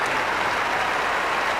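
A Wimbledon crowd gives sustained, loud applause for Czech tennis player Jana Novotná at the 1998 championships. The clapping is a dense, even roar throughout.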